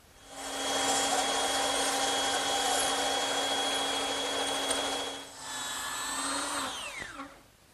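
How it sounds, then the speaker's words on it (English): A band saw cuts scallops into a wooden bed post with a loud steady whine as the blade runs through the wood. Near the end the motor dips, then winds down with a falling tone. "but I'm going to use the band saw."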